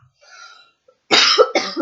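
A person coughs twice in quick succession, close and loud, after a faint, brief sound at the start.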